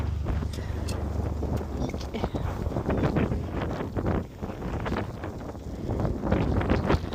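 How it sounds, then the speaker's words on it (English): Wind gusts buffet the microphone during a hike among rock formations at a family ranch, a loud, continuous rumbling roar with uneven surges. "I hope you can hear with all the wind"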